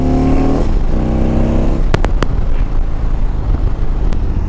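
Indian Dark Horse motorcycle accelerating hard with its back tire spinning, a loud close engine roar that climbs, then drops into rumbling wind-buffeted noise with a few sharp clicks.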